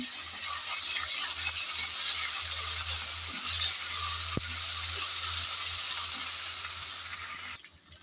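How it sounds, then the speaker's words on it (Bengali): Ginger-garlic paste frying in a pan with a steady, close hiss of sizzling oil that runs almost the whole time. A few faint stirring taps come through, and it cuts off near the end. "নেড়ে চেড়ে আদা রসুন ভেজে নিয়েছি যাতে কাঁচা গন্ধ চলে যায়"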